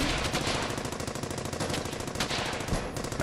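Sustained machine-gun suppressing fire in the Brothers in Arms: Hell's Highway video game, a rapid unbroken stream of shots, loud and dense for the whole stretch, with a slightly heavier burst near the end.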